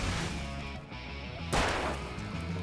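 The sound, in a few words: pistol gunfire in Alan Wake video game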